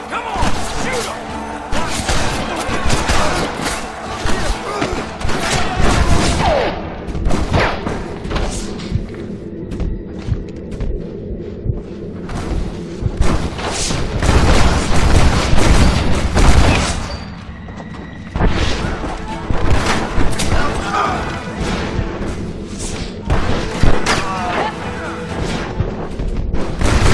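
A shootout in the Red Dead Redemption western game, with dense overlapping gunfire cracking and booming almost without pause, loud and close, and shouting voices mixed in.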